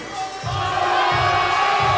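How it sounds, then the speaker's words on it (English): A crowd at a university weightlifting championship cheers loudly and steadily for a lifter, with several rising surges of shouting in a short burst. "Got the crowd behind her."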